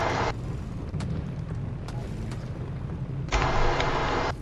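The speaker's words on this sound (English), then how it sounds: "they're shooting me" Gunfire in Fortnite: a continuous burst of rapid shots rumbling through the whole stretch, with two harsher, louder bursts at the start and near the end.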